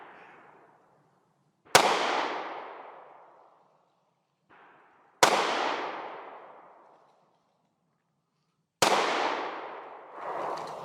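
Three sharp, loud pistol shots from a Sig Sauer P320 ring out a few seconds apart outdoors, each with a long echoing decay, and faint clatter sounds between them.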